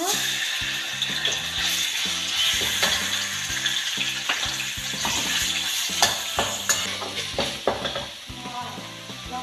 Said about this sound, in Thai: เดี๋ยวเราจะผัดพริกแกงของเราก่อนนะคะ